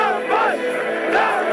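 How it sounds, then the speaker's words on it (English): Defiant crowd in Baghdad preparing for war, a mass of voices chanting and shouting together in loud, surging rising-and-falling cries. "in the Iraq capital, Baghdad, defiant crowds prepared for war"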